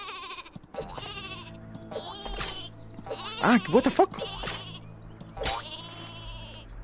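In a Worms video game match, the exploding sheep weapon bleats repeatedly in short, loud bursts amid game effects, while a man exclaims over it.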